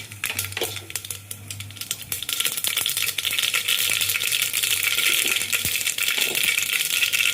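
Mustard seeds splutter and crackle in hot oil in a pan, with a dense run of sharp pops and sizzling over a steady hiss, close and fairly loud.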